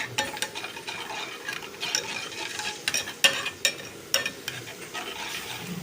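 Garlic fries in oil for Egyptian koshari as vinegar is poured in, a soft sizzle under repeated sharp clinks and scrapes of stirring in the pan.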